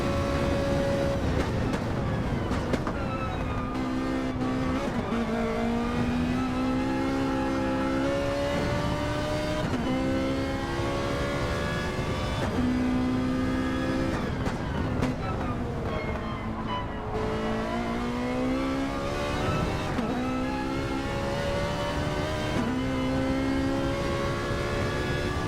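Ford and Ferrari race cars lap a track in Gran Turismo 7, a loud continuous engine note rising and falling through repeated gear changes and revs, with a steady road and wind roar underneath.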